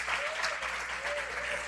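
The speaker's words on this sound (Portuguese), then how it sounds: "Aplauda Ele." Sustained applause from a church congregation fills the room, a dense even patter of many hands with a faint tone ringing underneath.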